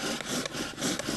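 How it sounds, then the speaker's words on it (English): Wooden bow drill spindle rubbing against a wooden fireboard to make a friction fire, giving a steady rasping, sawing scrape that rises and falls with each stroke of the bow, close and continuous. "Now I'm going to demonstrate for you a bow drill"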